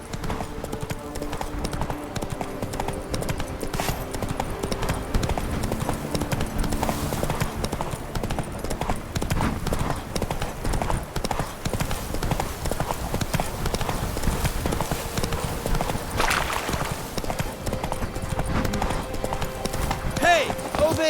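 Roach, the horse in The Witcher 3, galloping with a continuous fast hoofbeat rhythm under game music and ambience, while voices speak over it.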